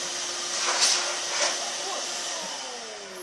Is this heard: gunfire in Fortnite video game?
no